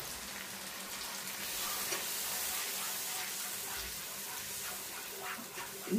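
Milk is poured into a pan of sizzling paneer masala over low gas, a steady broadband frying hiss running throughout with slight surges and a soft clatter near the end, no talking.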